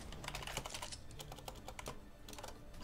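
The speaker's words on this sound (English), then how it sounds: "I'm having a really hard time typing right now." Rapid, dense clatter of keys being typed on a computer keyboard during a CS:GO matchmaking game, close and continuous with no talk.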